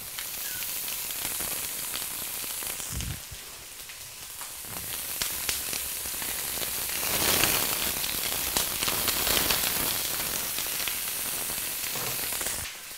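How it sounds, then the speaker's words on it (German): Cabbage rolls frying in a small, crowded pan, a dense, steady sizzle close by that swells briefly with crackling and spitting, running throughout with no talk. "Nebenher lege ich dann die Rouladen rein."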